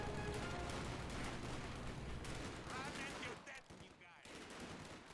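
MG42 machine gun fire in the strategy game Company of Heroes 2, with dense rattling bursts and overlapping gunfire across a battle, loud and continuous, under faint background talk.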